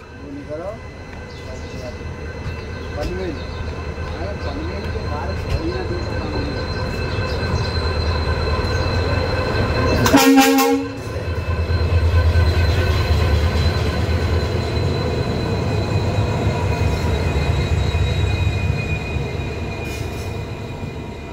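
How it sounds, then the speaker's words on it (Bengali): Guwahati Express from Silchar, hauled by a WDG4 diesel locomotive, rolls past close by with a loud steady rumble, squealing wheels and a sharp horn blast midway, while a voice talks over it. "সামনে থেকে আসছে শিলচর থেকে গুয়াহাটি যাওয়ার গুয়াহাটি এক্সপ্রেস, লোকোমোটিভ WDG4।"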